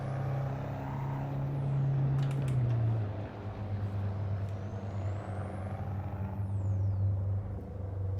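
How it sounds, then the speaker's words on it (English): A car in Assetto Corsa cruises on free roam with a steady low engine drone and a rising, falling whistle of turbo noise sweeping high above it. "So much turbo noise right there."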